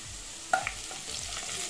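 Aloo bonda potato filling with turmeric stirred in a bowl: a brief spoon knock followed by soft, steady scraping and mixing, close and fairly quiet with no talk.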